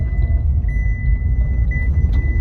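Tata Punch automatic car engine rumbling as it accelerates, heard from inside the cabin, loud and steady low drone with a faint high whine, no talk.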